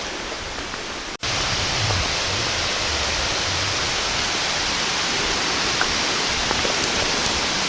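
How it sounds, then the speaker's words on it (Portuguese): A river flowing beside the main entrance path of Tijuca National Park forest gives a loud, steady, close rush of water that briefly cuts out near the start and then continues unbroken. "Esse som de água é o som daquele rio que acompanha a entrada principal do parque até lá em cima."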